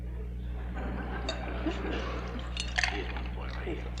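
Water is poured into a glass with light clinks and a trickling fill under a room hum at a 1965 lecture, fairly close and brief, while a voice is faintly present.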